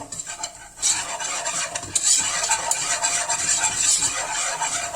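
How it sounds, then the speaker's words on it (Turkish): Mushrooms sautéing in an oiled pan for cream soup sizzle steadily, with a spoon scraping and stirring against the pan, close and continuous. "Ve bu şekilde biraz daha kavurmaya devam edeceğiz."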